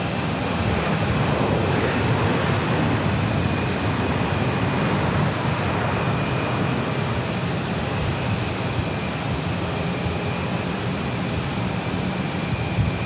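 An airplane landing at Sky Harbor Airport gives a continuous broad roar at steady loudness, with a faint whining tone and no talk.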